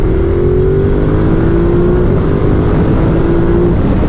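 Ducati Multistrada 1260S engine pulling hard in third gear, a loud close roar with a steadily climbing tone over heavy wind rush, continuous for a few seconds without talk.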